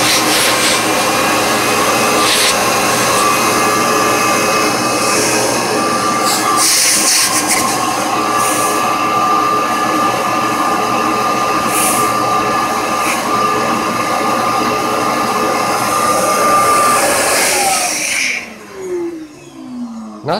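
A standard shop vacuum runs loud and steady at close range, its broadband whine holding constant for about eighteen seconds before the motor cuts off and spins down.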